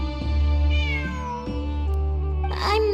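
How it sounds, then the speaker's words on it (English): A cat meows loudly and close in Genshin Impact's Sumeru, a drawn-out wavering cry followed by a couple of shorter meows, with a sharper higher call near the end. "It really is a cat."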